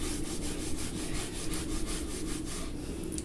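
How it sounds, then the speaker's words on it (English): Close, steady scratchy rubbing of an eyeliner brush stroking across an eyelid, a soft continuous texture with faint repeated strokes over a quiet room, no talking. "I like how you can hear like the little scratch of the brush on my lid."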